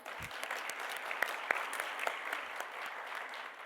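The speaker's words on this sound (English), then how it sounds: "I just have to say, like, another round of applause." Audience applause for students at a plenary session on student well-being, a moderate, steady patter of clapping with a few sharper individual claps standing out.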